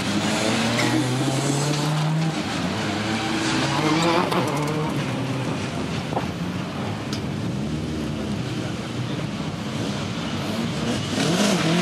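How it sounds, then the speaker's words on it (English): A 190-horsepower Fiat 500 turbo race car at a retro motorsport event, its engine revving and rising through gear changes while tires squeal, loud and continuous over the whole stretch. "now we're 190 horsepower of Fiat 500 turbo"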